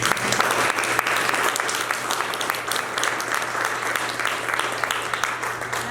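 Audience applause fills a panel event on the overdose crisis among Black Americans, a dense, steady clapping from a crowd lasting the whole stretch at close, even loudness.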